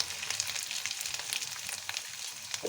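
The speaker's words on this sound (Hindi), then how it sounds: "चिकन हमारा ये देखिए अच्छी तरह फ्राई हो गया" Chicken pieces sizzle steadily in a pan with onion and garlic-ginger paste while cooking for white chicken karahi, a constant close crackling frying sound with no talking.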